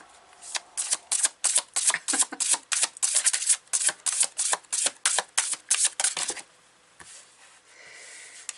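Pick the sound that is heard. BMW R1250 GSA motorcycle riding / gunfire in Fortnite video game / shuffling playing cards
shuffling playing cards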